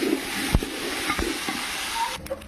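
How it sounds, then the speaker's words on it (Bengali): Rice fries in hot oil in a pan for milk pulao, giving a steady close sizzle and hiss broken by a few sharp scraping stirs and clinks. "এখানে আমি চাল দিয়ে দিচ্ছি এটাকে ভালো করে কিন্তু তেলের ওপরে ভালো করে কিন্তু চালটাকে ভেজে নিতে হবে"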